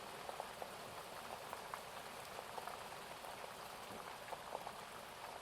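Steady rain falls in a soft, even patter with scattered droplet ticks, continuous and unbroken, with no voices.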